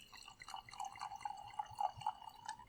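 Sake pours into a glass with a light, trickling liquid sound and small drips, quiet and close, running steadily for a couple of seconds without any voices.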